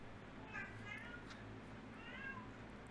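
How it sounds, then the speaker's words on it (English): A house cat meows twice, faint and drawn-out, behind a quiet room tone with soft talk around it. "Is that your cat?"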